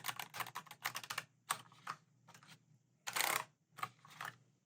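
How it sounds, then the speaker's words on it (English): Rapid clicking of a keycard K5 computer keyboard being typed on, bursts of keystrokes with short pauses and a louder clack, close up and without voices. "here's what it sounds like when I'm typing on this"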